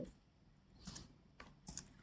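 Someone types code on a computer keyboard in Visual Studio Code, with a few short, soft clusters of keystrokes separated by pauses, quiet and close.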